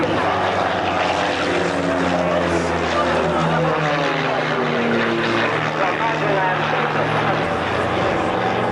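Propeller aircraft flying a display at the 1991 RAF Valley air show on Anglesey, a steady loud engine drone throughout with a commentator talking over the public address.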